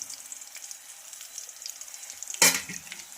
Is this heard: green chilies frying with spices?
yes